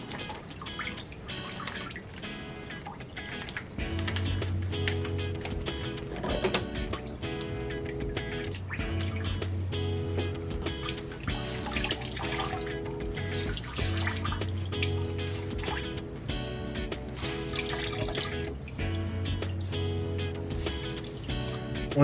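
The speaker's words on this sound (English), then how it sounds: "Once you're done rinsing off the shirt, you're now ready to open it up and see your pattern." A tie-dye shirt rinsed under running water, a steady close splashing flow with a dripping, burbling texture that continues throughout with no talk.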